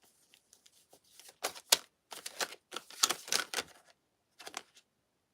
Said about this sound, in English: Oh, let me finish shuffling.